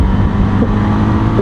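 A Bajaj Avenger 220 cruiser motorcycle accelerates with a steady, loud, close engine drone that holds evenly throughout the short stretch.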